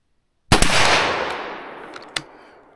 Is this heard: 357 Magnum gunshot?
yes